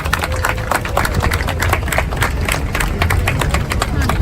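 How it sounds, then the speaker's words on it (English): A crowd applauding at an outdoor rally against gun violence in Prospect Park, Brooklyn, with steady overlapping claps and a bit of background babble, loud and sustained. "Give yourselves a big round of applause."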